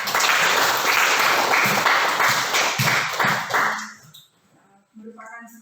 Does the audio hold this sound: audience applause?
yes